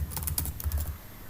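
Code is typed on a computer keyboard, a brisk, close patter of keystrokes for about a second, with no voice over it.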